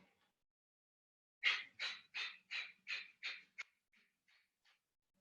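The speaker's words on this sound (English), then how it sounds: "So this is camel with breath of fire." Breath of fire breathing in Kundalini yoga, done while holding camel pose: six strong, rapid, rhythmic breaths, each one forceful, then several fainter puffs that trail off into quiet.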